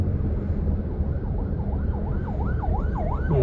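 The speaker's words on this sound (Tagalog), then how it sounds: "Tingnan mo, ambulansya, nandiyan pa rin." An ambulance siren wails, rising and falling repeatedly over rumbling road traffic in Muntinlupa, Metro Manila, growing louder and closer toward the end.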